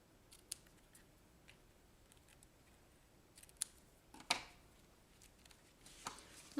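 Scissors trim paper for a sympathy card in a series of faint, crisp snips spaced irregularly, with one louder cut near the end, close and quiet with no talking.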